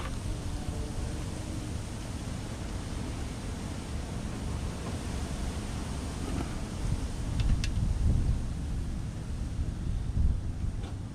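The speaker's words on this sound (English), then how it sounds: "Wind is picking up." Wind blows outdoors beside a small 2-stroke engine setup with a racing carburetor, a continuous broad rushing noise with slight gusts growing stronger toward the end and no speech.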